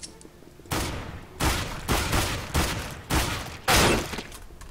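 Gunfire in CS:GO comes as six loud, separate bursts spaced about a second apart, each sharp crack trailing into a brief echoing tail, with no voices.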